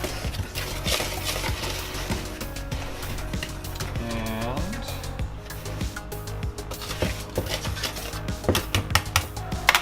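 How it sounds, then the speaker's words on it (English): Dry ingredients for oil-free vegan pancakes being stirred in a bowl, with continuous clinking and scraping of a utensil against the dish at a brisk, uneven rhythm, with a brief whistling tone midway. "So we'll get that all mixed as far as the dry ingredients go."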